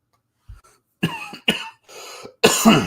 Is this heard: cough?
yes